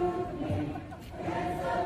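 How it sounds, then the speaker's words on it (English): Protesters at a peaceful demonstration sing together, a dense, steady wash of massed voices that carries on without a break for the whole short stretch. "And here they are out there singing."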